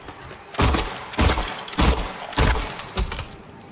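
Gunfire in the Silent Hill 2 video game rings out as about five sharp, loud shots in an uneven rhythm, each a hard crack with a short ringing tail, over a quiet background.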